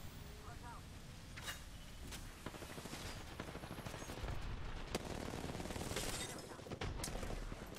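Rapid bursts of Alternator gunfire in a shooter video game crackle under loud, continuous talk, with bright shot transients scattered across the clip and a dense rattling stretch in the middle.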